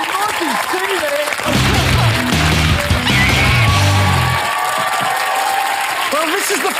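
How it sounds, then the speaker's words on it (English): Studio audience on a game show applauds a team, dense clapping and crowd noise running throughout, with music and voices layered over it. "a big round of applause for Mikey Roberts and Mikey's team there"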